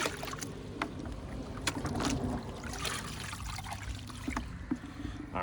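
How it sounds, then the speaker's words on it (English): Water splashes and trickles steadily as a car part from a modified Buick Grand National is rinsed out, a continuous wet wash with a few sharper splashes and knocks, close by. "rinse it out like this"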